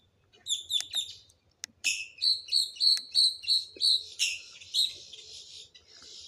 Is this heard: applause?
no